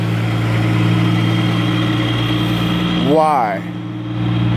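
A loud Peterbilt truck engine idles with a steady low droning hum throughout, and someone talks over it near the end.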